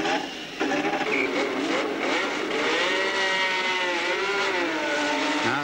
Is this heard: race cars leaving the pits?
yes